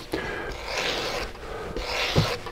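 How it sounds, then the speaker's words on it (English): A Sur-Form rasp scrapes across clay in three scratchy back-and-forth strokes, close and distinct, with no talk. "I use a Sur-Form"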